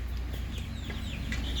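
Chicks on a poultry farm peep and cluck in short, high chirps scattered over a steady low background hum, fairly close, with no talk.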